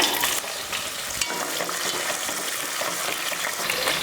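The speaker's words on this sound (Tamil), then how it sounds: "இதில் சின்ன வெங்காயம் ஒரு 200 கிராம் சின்ன வெங்காயமும் ஒரு 6-7 பூண்டு பல்லும் இருக்குது. அதை சேர்த்துடலாம்." Small onions and garlic cloves fry in hot oil with fenugreek and mustard, giving a dense, bright, continuous sizzle with stirring, close by, with no voices.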